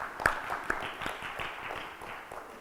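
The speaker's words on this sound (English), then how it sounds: "Big round of applause for people who could spot 6 F." Audience at a corporate annual meet clapping, with a few sharp early claps followed by a softer, steady patter of applause from a moderately sized crowd.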